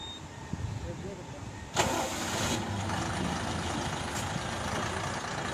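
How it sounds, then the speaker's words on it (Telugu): Heavy 14-tyre lorry carrying a 30-ton load rolls along at idle without acceleration, a steady low engine rumble under a voice, with a sudden louder burst of noise partway through. "30 tons లోడ్ వేసుకొని ఒక వెహికల్ వితౌట్ యాక్సిలరేషన్లో మూవ్ అవుతుంది"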